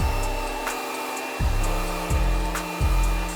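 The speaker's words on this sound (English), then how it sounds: "So I just finished rough drying it to make sure all the product was fully absorbed into my hair" A hair dryer rough-dries hair with a loud, continuous blowing roar, its pitch dipping and jumping several times as the airflow is moved or blocked, with no talking.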